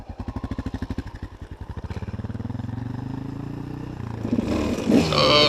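A KTM 250 SX dirt bike running on aviation fuel is bump started: its engine catches with rapid, pulsing putts that quicken and blur into a steady running drone, then a louder rev swells near the end.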